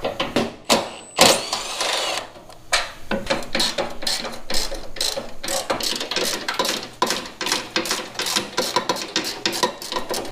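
A ratchet wrench loosening bolts behind the header panel of a 1997-2001 Jeep Cherokee XJ during fender removal, rapid close clicking in repeated bursts with brief pauses between strokes.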